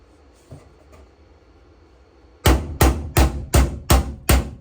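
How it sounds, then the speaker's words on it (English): Hammer blows ring out on a welded truck part set up on blocks off the truck: after a quiet moment, six loud, sharp metallic strikes land close by in an even rhythm about half a second apart. "let me go around front here to see if I can hammer on it a little bit"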